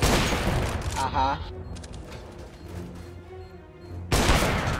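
A burst of gunfire in the video game CS:GO, loud and dense at the start, then quieter game sounds, then another heavy burst at the end, with a brief spoken interjection.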